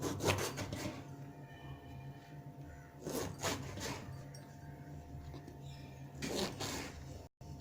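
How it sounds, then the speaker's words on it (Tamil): A knife slicing through a lemon for lemon pickle, giving a few soft rasping, rubbing strokes on a cutting surface against quiet kitchen background noise. "இப்போ இந்த லெமனை கட் பண்ணிக்கலாம்."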